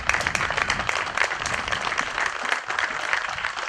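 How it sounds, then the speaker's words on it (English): An audience at a charity golf event applauds the organizing committee, a steady, moderately distant wash of many hands clapping with no voices over it. "Give them a round of applause."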